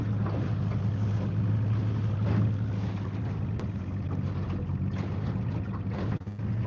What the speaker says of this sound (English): They got a Sea Arc boat